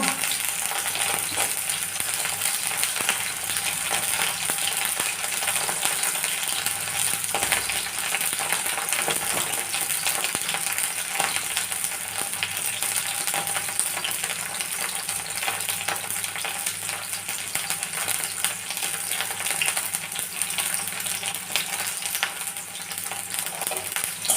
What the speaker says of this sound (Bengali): করলাগুলো নেড়ে ভাজতে লাগলাম